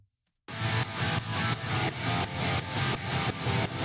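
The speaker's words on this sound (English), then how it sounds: "That's like this pumping effect." Guitars in a song mix with side-chain compression, the volume ducking and swelling on each beat in a steady pumping rhythm after a brief silent start, loud and continuous with no talking.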